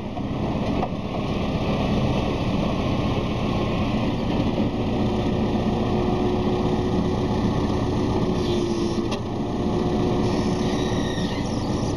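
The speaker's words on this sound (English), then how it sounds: "So look at me driving this forklift." A forklift engine drones steadily and continuously while the truck is being driven, a moderately loud, even mechanical hum with no voices.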